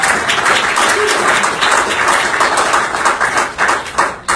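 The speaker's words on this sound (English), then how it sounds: "Hey, round of applause for my dad." A crowd applauds steadily for about four seconds, dense clapping that stays loud throughout and tapers slightly with a few louder bursts near the end, with no talking over it.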